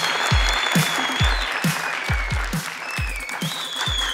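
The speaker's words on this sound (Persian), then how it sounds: "بلند بلند کف بزنین به افتخار نصرت و روح الله" Audience applause cheering Nusrat and Rohullah on stage at a live show: steady, dense clapping throughout, over a regular thumping beat.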